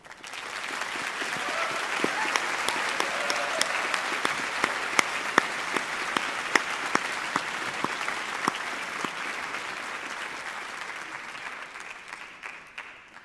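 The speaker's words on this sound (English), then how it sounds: "recognizing their part in all of this with a big round of applause" A graduation ceremony audience applauds steadily for about thirteen seconds, dense clapping holding an even level before tapering slightly at the end, with a few sharper claps standing out.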